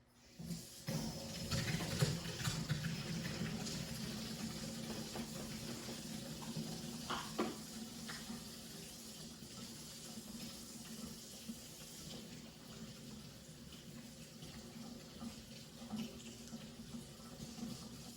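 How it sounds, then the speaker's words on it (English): A sink tap runs steadily while hands are washed beneath it, a continuous close hiss and splash of water lasting throughout, with small shifts in the flow as the hands move, no voices over it. "You may not see me, but you'll hear the water running."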